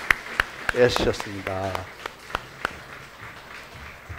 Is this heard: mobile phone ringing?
no